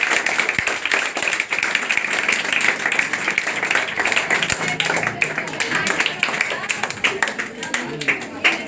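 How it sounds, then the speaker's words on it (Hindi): A crowd gathered for the inauguration of a coaching centre at a crossroads applauds loudly: dense, sustained clapping close by, with voices talking and calling out over it throughout. "आप लोग जोरदार ताली"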